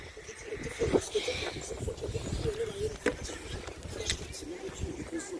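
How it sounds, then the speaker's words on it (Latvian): Strong gusty wind buffets the microphone on ice in rough, continuous rumbling bursts, with a voice speaking intermittently underneath. "Vējš pilnīgi pūš"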